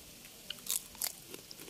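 Crunchy fried potato chips, made for a potato snack, bitten a few times close up, giving brief crisp crunches over quiet background with no talking.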